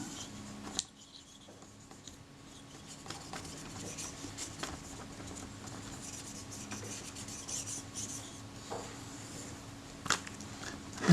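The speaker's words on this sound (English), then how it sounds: "Once over the base with some naphtha to make sure that there's no oil or grease on the metalwork." Naphtha on a cloth is rubbed over the metal base of a Kodak Retina IIIc camera, producing a steady, faint, close-up rubbing and scraping that runs continuously, with a few small clicks and no speech.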